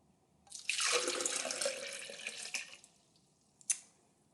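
Water pours into a measuring jug in one short, close, splashy stream lasting about two seconds, then tails off and ends with a single drip.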